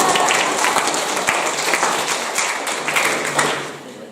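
An audience in a church service breaks into applause, dense clapping at a steady level that tapers off slightly over a few seconds.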